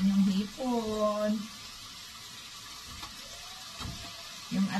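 Shrimp frying in a pan for sotanghon, a soft steady sizzle running under a speaking voice at the start and end.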